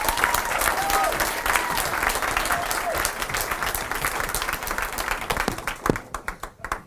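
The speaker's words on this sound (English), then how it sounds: "let's give him a round of applause and appreciation" Audience applause at the launch of a social farming report, held outdoors on a farm in Kerry: a dense, sustained wash of many hands clapping that thins into a few scattered final claps.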